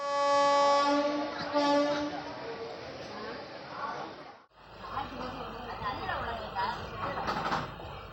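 A Tirunelveli–Nagercoil train rumbles steadily with a sustained horn-like tone at first, then a clunk and continued rolling clatter as people talk nearby.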